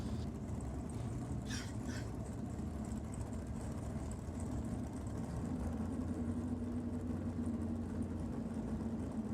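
A 1,250 cubic inch nitro drag racing car sits on the start line at a drag racing event, its engine giving a distant, steady low rumble that stays fairly faint.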